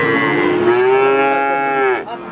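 A seven-month-old young cow at a cattle market gives one loud, close, sustained moo lasting about two seconds before trailing off.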